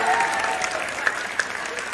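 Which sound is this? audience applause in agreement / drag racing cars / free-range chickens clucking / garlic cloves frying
audience applause in agreement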